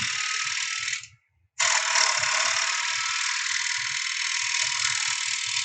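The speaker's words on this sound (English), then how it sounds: "I'm going to grab me my 1/2-inch bowl gouge, and I'm going to do some slight pull cuts here" Bowl gouge making light pull cuts across the rim of a wooden platter on a lathe, a steady close hiss of cutting that breaks off once briefly and then runs on unbroken, with a faint low lathe rumble underneath.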